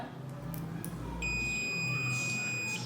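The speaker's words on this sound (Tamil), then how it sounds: "ஒரு பீப் சவுண்ட் வந்து கேட்குது." A steady high multimeter continuity-test beep switches on partway through and holds continuously to the end over faint background hum.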